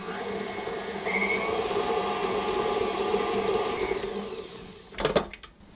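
An electric mixer whirs steadily through cheesecake batter, a continuous close motor drone with beater churn that drops off near the end as something knocks against the bowl.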